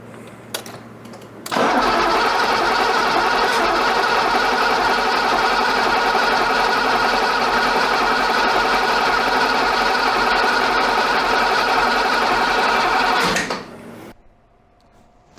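A BMW 535i E28 Alpina engine cranking on the starter without catching, a steady loud whirring drone lasting about twelve seconds before cutting off, no voices.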